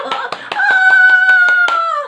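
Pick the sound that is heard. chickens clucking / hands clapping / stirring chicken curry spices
hands clapping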